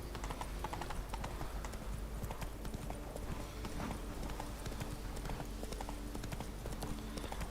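Roach, the horse in The Witcher 3, gallops with rapid, continuous hoofbeats that stay loud and steady over game ambience, with a faint voice briefly present.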